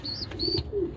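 A tame young pet pigeon or dove calls with soft, low cooing phrases close by, with faint higher chirps at the start and no voices.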